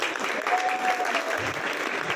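An audience at a press event for a music group applauds steadily, a dense wash of clapping that stays even throughout with no voices standing out.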